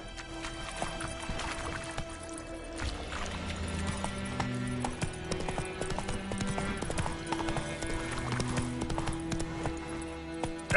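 Roach the horse trotting in The Witcher 3 game, a steady clip-clop of hooves running continuously at close range beneath layered background music and ambience.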